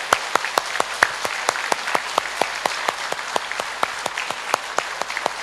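An audience at a lecture claps loudly and steadily in sharp, evenly spaced beats, close and alone with no talk.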